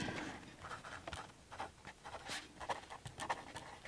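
Pen or pencil scratching out an item on a shopping list for a pantry of bulk nuts and baking goods, a few soft, close scribbling strokes with faint rustles and no speech.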